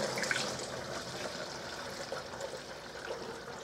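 Homemade window cleaner pours into a squirt bottle, a steady liquid trickle and splash close to the microphone, moderately loud and without talk.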